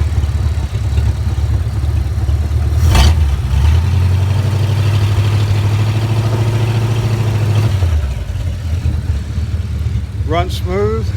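A 1951 Mercury engine idles low and steady after a cold start, with a passenger-side exhaust leak at the donut gasket; a loud, continuous rumble with a slight dip in pitch partway through.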